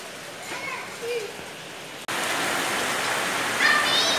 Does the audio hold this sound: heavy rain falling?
yes